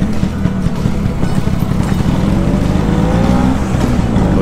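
An old Vespa scooter revs hard at full throttle, its two-stroke engine droning loud and steady up close for the whole stretch with no talk.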